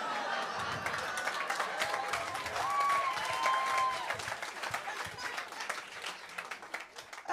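Comedy show audience clapping and cheering, a steady wash of applause that swells and then fades out toward the end, with a voice speaking faintly over it.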